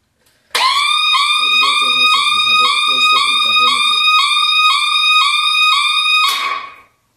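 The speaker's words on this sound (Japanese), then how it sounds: "非常警報設備作動試験" An emergency alarm system sounds during an activation inspection test, a loud, piercing electronic siren with rapid repeating warbling tones that starts abruptly, holds steady for about six seconds, then cuts off.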